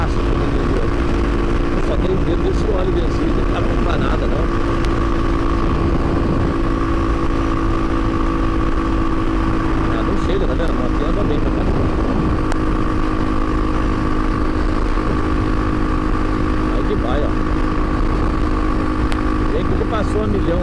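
A Honda XR200R motorcycle is ridden with a steady, droning engine note that holds close and loud throughout, with someone speaking over it.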